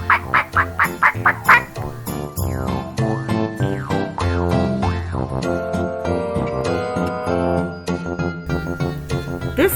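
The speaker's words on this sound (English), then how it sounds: "This is a duck." Repeated duck quacks, a run of short evenly spaced calls at the start, then layered with bright jingly tones and music for the rest.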